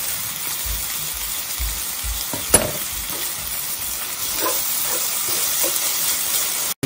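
Onions and chopped garlic fry in a pan, cooked until translucent rather than browned. A constant close sizzle fills the clip, with a few soft stirring knocks and one sharp clink partway through.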